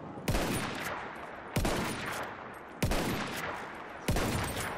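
Four loud, evenly spaced heavy gunshots from a weapon in Battlefield 1, each a sharp crack with a long rumbling tail, close and alone with no talk.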